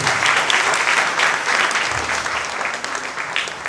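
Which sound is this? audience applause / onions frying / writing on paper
audience applause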